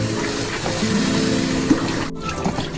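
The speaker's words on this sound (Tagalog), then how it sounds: "So, ngayon mag-start na talaga tayo maghugas." Tap water runs steadily into a sink during hand dishwashing in a home kitchen without a dishwasher, a continuous close splashing hiss with faint clinks, and no talking.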